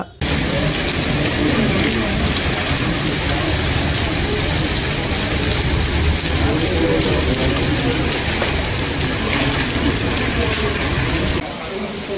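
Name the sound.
heavy rain with storm in Chikkamagaluru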